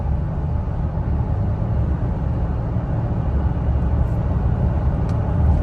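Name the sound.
Toyota Tacoma truck cruising around 60 mph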